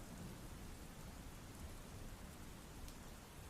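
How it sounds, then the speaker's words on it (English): Steady rain falls on a porch during a thunderstorm, a dense even hiss with a low rumble underneath, quiet and continuous without any voices. "These storms seem to be getting more and more frequent here in the Valleylands of Treston."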